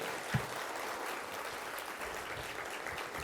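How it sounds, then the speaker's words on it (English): Steady applause for an award winner from a room full of people at an awards ceremony, a continuous wash of clapping at moderate level throughout. "Another round of applause for our first award winner."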